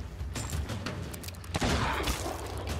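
Gunfire in a battle-at-sea video game, a few sharp shots early then a heavier burst of blasts from about 1.6 seconds, close and fairly loud, with no talking.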